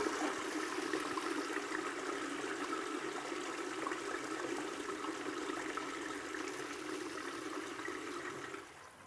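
A toilet cistern refills after its flush button is tested, giving a steady, soft rushing hiss of water that eases slightly toward the end.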